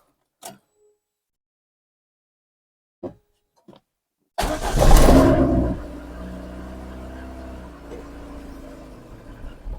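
A VAZ 099 hatchback with a misfiring engine cranks after a few faint clicks, then fires into a loud surge that settles to an uneven, rough idle, heard up close.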